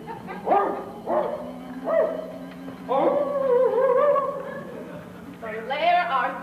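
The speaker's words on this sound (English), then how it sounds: "I heard something. Dogs!" Dogs bark and yelp in a series of excited bursts, fairly close, with whining tones between barks and a final rising yelp.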